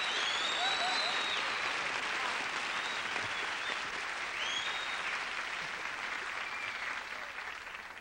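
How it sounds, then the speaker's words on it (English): A television studio audience applauds a special guest star on a variety show, with dense sustained clapping and a few cheers that fade slightly toward the end. "let's hear it for our special guest star, Mr. John Biner."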